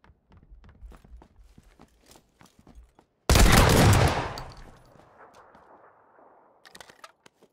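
A single loud shotgun blast in the battle royale video game PUBG, close and sharp, with a rumbling decay that lasts about a second, set between quiet footsteps and faint background noise.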